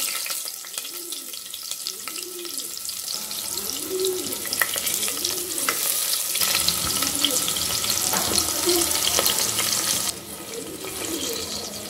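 Chopped onions sautéing in a pan with spices for a cabbage and bone curry, a continuous close sizzle broken by repeated scraping stirs, no talk over it.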